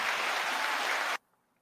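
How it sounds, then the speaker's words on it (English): A loud, dense burst of clapping and applause from a crowd, heard for just over a second before cutting off abruptly into near silence. "Let's get a round of applause for that."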